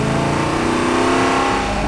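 A 2014 SRT Charger's engine drones steadily as it drives around a race course, a loud, sustained mid-pitched hum heard from inside the car without any break.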